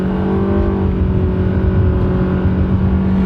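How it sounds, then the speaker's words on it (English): A car with a CVT transmission accelerating hard, its engine holding a steady, loud, high-revving drone without gear changes from start to finish. "Let's take it to our little drag strip here and see what it does when you step on the gas."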